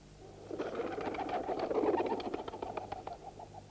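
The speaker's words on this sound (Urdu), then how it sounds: "یہ کبوتر بھی کسی زندہ مقام کی طرف اڑ کر جا رہے ہیں" Pigeons heard close by, a soft fluttering of wings with low cooing sounds that rise in the middle and then fade, with no talking.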